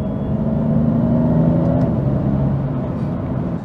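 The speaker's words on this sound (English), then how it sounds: "So now I can hear a slight whine coming from the gearbox." A BMW M3 Competition with a DCT gearbox cruising along, a steady engine and road rumble with a faint gearbox whine running through it, loud and constant throughout.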